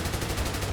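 A short burst of rapid automatic G36 rifle fire in Escape from Tarkov, close and loud, with evenly spaced shots.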